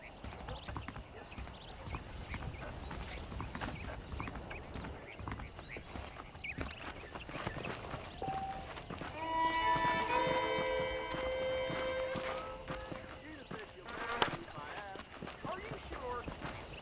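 Horse hooves clip-clop steadily in the Western video game Red Dead Redemption, a ridden horse moving at a walking pace under game music and speech, with a brief melodic swell midway.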